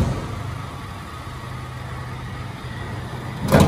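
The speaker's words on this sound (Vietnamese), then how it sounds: "Máy nổ thì thầm luôn." The original 2.0-litre VVT engine of a 2009 Toyota Innova G idles quietly in a dealer's lot, a soft, steady low hum close by, with a brief louder rustle near the end.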